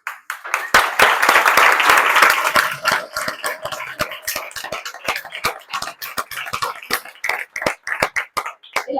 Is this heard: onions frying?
no